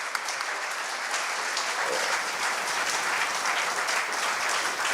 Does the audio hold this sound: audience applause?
yes